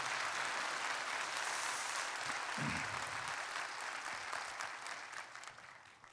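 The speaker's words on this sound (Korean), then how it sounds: "박수 치신 분들" A church congregation at a Korean thanksgiving night service claps in one sustained, even burst of applause, heard from a distance and fairly soft, slowly tapering off toward the close.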